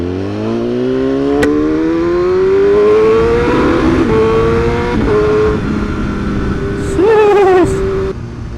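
A loud BMW HP4 motorcycle with an SC Project aftermarket exhaust revs up with a rising pitch, then holds and crackles, with a sharp burst of revving near the end.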